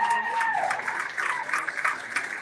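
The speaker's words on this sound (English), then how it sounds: "Give him a round of applause" An audience claps steadily for a coach at a motivational talk, a dense, even patter of many hands with a brief faint tonal trace early on.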